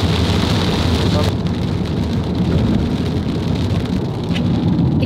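Heavy rain pours down steadily and loudly, with deep rumbling thunder rolling underneath throughout, under a darkened sky.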